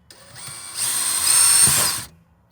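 A power drill whirs briefly, rising as it bites into a Dometic fridge in a camper van for about a second before stopping.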